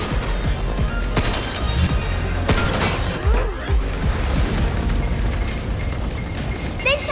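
Gunfire and explosions in the video game Pragmata, a dense barrage of sharp booming hits and crashes over a continuous noisy backdrop, with occasional voices speaking.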